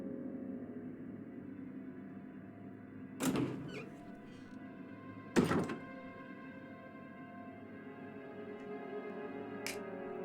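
A door in the video game Resident Evil opens with two distinct heavy thunks a couple of seconds apart, followed later by a faint click, over a constant low background hum.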